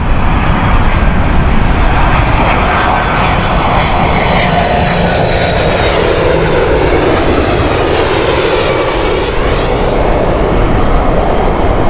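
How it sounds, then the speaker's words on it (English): A Delta airliner inbound from New York at Heathrow gives a loud, sustained jet roar that fills the whole stretch, its pitch sweeping gradually as it passes close by. No one speaks. "So this is Delta's flight inbound now. This is the New York flight."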